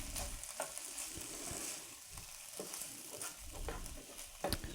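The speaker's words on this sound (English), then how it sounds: "give my chicken a stir here" Chicken is stirred and fried in a pan while making chicken fettuccine Alfredo, with a steady soft sizzle underneath and a few close scraping stirs, each a short knock or clatter.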